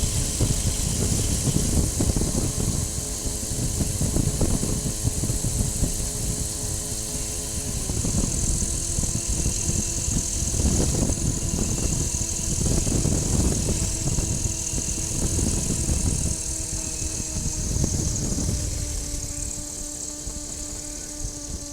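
Light aircraft engine droning steadily in flight with a slight crosswind, a continuous buzzing hum with a propeller tone that shifts pitch slightly, punctuated by gusty wind rushes across the cabin, loud and close throughout.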